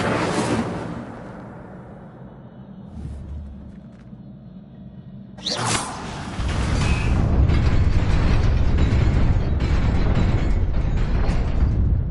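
An Incendio fire spell cast in Hogwarts Legacy erupts in a sudden burst, then a loud, sustained roaring rumble of flame follows after a quieter stretch of low ambience.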